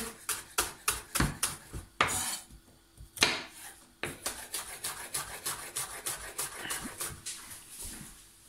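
A knife chops onion stems on a board at home, the cut pieces quartered first, giving quick crisp taps in a steady near rhythm with short pauses between runs.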